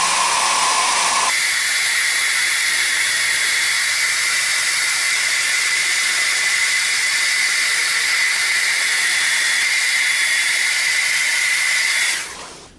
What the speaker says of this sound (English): just heat it up with the hair dryer on the hottest setting you can